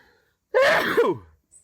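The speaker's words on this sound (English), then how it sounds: "I'm about to sneeze." A single loud, close sneeze with a sharp intake and forceful burst, followed by silence.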